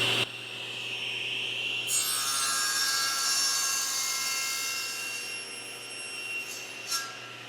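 Steady, loud saw cutting tenons into a wooden chair back support laid flat on a tabletop, the tone rising as the blade enters the wood and holding for several seconds with brief surges, close and with no voices.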